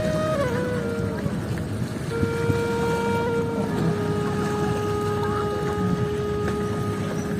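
A boat on a river hums along with a steady droning motor tone that shifts pitch slightly, heard at moderate distance over a constant low wash of water and ambient noise.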